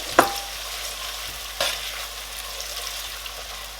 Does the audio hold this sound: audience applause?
no